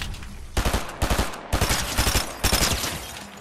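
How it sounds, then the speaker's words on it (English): Burst SMG fire in Fortnite's zero build ranked mode comes in several sharp, loud clusters of rapid shots separated by brief gaps, close and alone. "the burst SMG is perfect for this kind of chasing."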